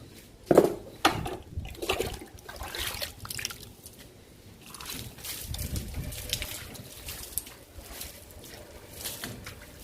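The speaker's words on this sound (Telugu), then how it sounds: "మన వాటర్ పోస్తుంటే దుమ్మంతా ఈజీగా పోతుందండి" Water splashes and pours unevenly onto indoor plant leaves, washing off dust, a wet hissing stream with a few louder gushes near the start.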